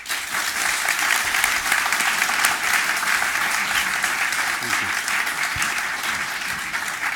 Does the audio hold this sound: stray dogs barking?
no